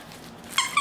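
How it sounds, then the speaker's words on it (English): A squeaky, crinkly licorice-shaped dog toy gives a couple of quick, sharp squeaks close by, following a brief rustle, all within under a second. "this squeaky, crinkly licorice toy"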